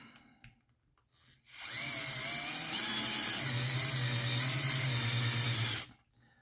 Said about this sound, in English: Okay, so I tighten these two, and I just want to show you guys that with that power driver